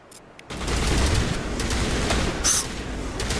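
Gunfire in the video game Mass Effect: after a short quiet start, a loud, continuous roar of shooting and combat noise holds steady, with a brief sharper burst partway through.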